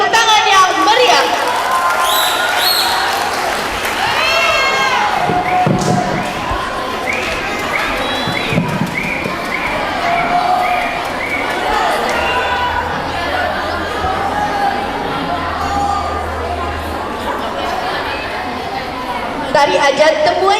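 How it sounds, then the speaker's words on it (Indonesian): A school audience at a Dayak dance performance cheers and chatters loudly, with children's shouts and excited crowd noise rising and falling over about twenty seconds. "Berikan tepuk tangan yang meriah."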